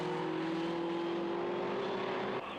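TVR Tuscan race cars howl along a racing circuit, a loud sustained engine tone holding a steady pitch before dropping away at the end, heard without talk.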